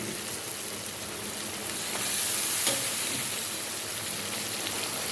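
Vegetables hitting hot oil in a pan, setting off a dense, steady sizzle that swells slightly midway, close and continuous, with no talking.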